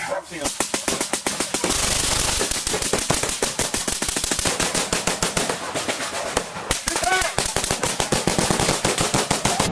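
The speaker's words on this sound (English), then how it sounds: "We have more shots fired." Police gunfire from fully automatic weapons during a manhunt for a wanted cop killer, rapid bursts of loud shots crackling continuously throughout, with brief pauses and voices faintly underneath.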